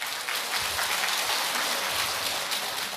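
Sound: audience applause

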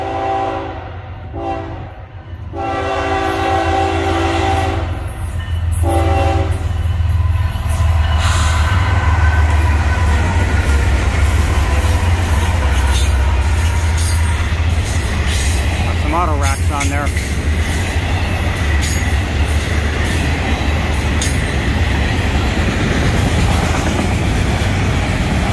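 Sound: Florida East Coast Railway train FEC 105 passing with horn

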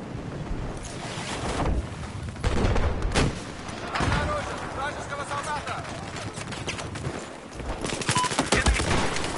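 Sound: automatic gunfire spraying in video game Battlefield 4

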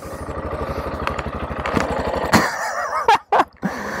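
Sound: sport motorcycle engine idling

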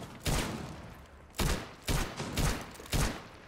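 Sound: gunfire in Rainbow Six Siege video game

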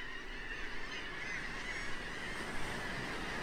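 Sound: seagulls calling on beach

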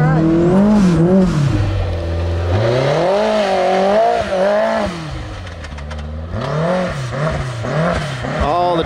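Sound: Can-Am Maverick X3 side-by-side engine revving in race mode

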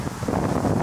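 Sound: wind blowing outdoors in the countryside

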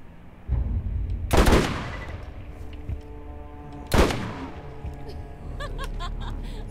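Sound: gunfire in the video game Borderlands

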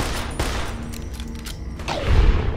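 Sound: sniper gunshot in video game Fallout New Vegas

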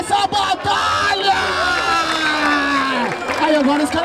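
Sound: crowd applauding and cheering

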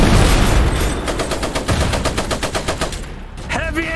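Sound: heavy machine gun fire in the video game Iron Harvest

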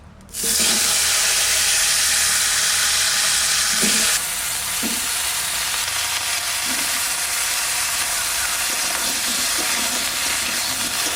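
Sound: potatoes frying in hot oil in a pan

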